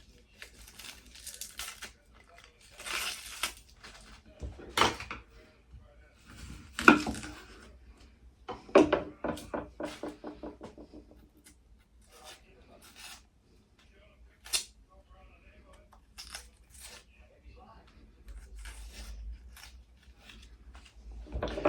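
A medium onion, skin removed, is cut in half with a knife on a board in a quiet kitchen, giving a few close, crisp chopping thuds and crunches between soft handling sounds.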